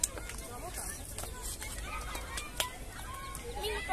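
A flock of ducks honks and squabbles outdoors, with noisy overlapping calls and scattered sharp quacks against a hissing background, all at moderate distance.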